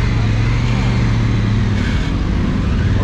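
Honda Africa Twin motorcycle ridden slowly along a road near Caldas, its engine droning low and steady at low revs with strong wind rush throughout, close and continuous.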